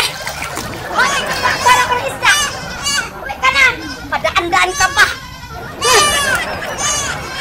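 Goat bleating close by, several cries rising over lively chatter and children's voices in an outdoor rural setting.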